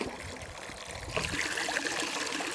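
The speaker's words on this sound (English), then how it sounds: "that's nice hot water coming out of there" Hot water runs out of the valve of a hot water tank in a steady stream. The flow starts quieter, then grows into a fuller splashing trickle partway through, with no talk over it.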